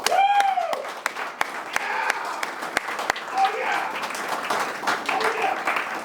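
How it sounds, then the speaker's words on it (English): A crowd at a university athletics booster event gives a round of applause, full and sustained clapping with a few louder sharp claps and a voice speaking over it at the start. "I just want to give everybody another round of applause."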